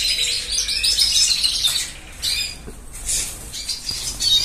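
A small cage bird chirps and tweets in quick, bright bursts close by, with brief wing flutters among the calls and no talking.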